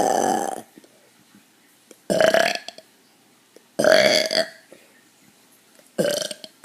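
Four loud, drawn-out burps come one after another, separated by short pauses of near silence. Each burp is close and raspy and lasts under a second.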